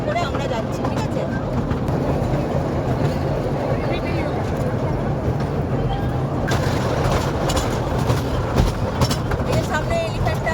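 A toy train runs over the sea toward Elephanta Caves near Mumbai with a steady, loud, continuous rumble throughout, as people talk nearby.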